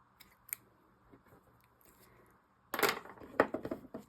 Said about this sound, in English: And then just take our scissors and trim our ends off.